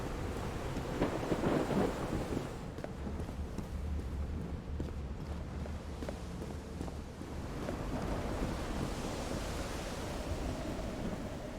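Thunder in the video game Call of the Sea, a deep rumbling roll under a steady hiss of rain and surf-like wash, loudest early and then settling into a continuous low stormy roar with no talking.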